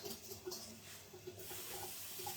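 Tap water runs into a sink while a measuring cup is rinsed underneath, a continuous quiet splashing hiss with small bubbling variations.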